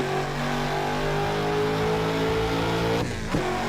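The V8 of a BMW E39 M5 in the driving game Assetto Corsa drones steadily under acceleration, a smooth sustained engine tone that dips briefly near the end, with no talk over it.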